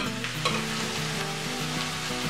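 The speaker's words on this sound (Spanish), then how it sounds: "ahora le vamos a dar unas vueltas a las patatas" Potato chunks stirred into fried leek and onion in a pot, a close, steady sizzle with soft scraping of the spoon, ending in a brief louder clatter.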